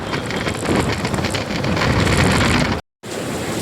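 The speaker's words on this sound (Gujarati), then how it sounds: "ત્યાં વાવાઝોડું આવ્યું છે ને." A windstorm on a road roars in loud, continuous gusts that buffet the microphone, with a brief dropout near the end; any rain or hail is lost in the wind.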